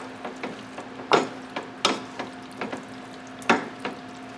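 Beef stroganoff being stirred in a pan, with a steady low hum underneath and a series of sharp scraping, clattering strokes at irregular intervals, the loudest three standing out clearly, with no talk.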